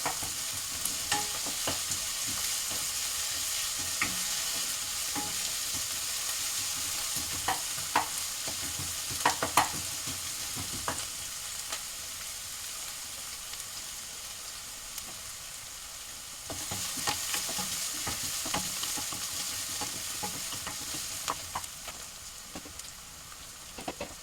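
Vegetables fry in hot oil while a spoon stirs them around the pan, a steady sizzle broken by scraping knocks, close and without talk.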